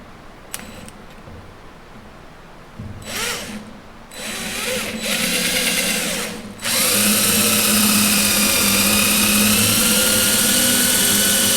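Power drill driving bolts into a 45-year-old John Deere combine, loud whirring bursts that start and stop, then a long sustained high-pitched run of the drill close by.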